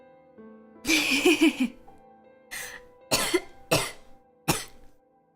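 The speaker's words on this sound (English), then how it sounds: "Holding my breath for that long made me cough." A person coughs several times in separate bursts, the first a longer, harsher fit, the rest short single coughs, close by.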